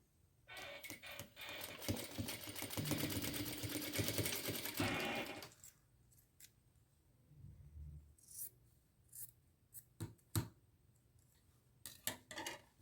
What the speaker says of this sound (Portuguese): Vou fazer essa emenda e depois eu termino de costurar